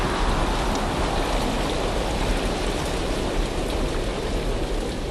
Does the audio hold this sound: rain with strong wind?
yes